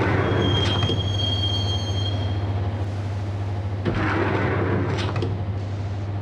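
Subway train in the Max Payne video game rolling along with a heavy, loud low rumble, marked by shrill metallic wheel squeals that come and go over it, including a clunk midway, with no talking.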